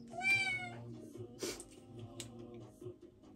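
A cat meows loudly and insistently, with a strong drawn-out cry followed by several shorter, rougher calls close to the listener.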